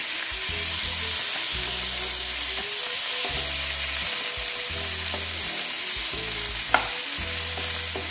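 Tomatoes fry and are stirred in a hot pan, a steady loud sizzle with repeated scraping strokes from the spatula in a regular rhythm, no voices.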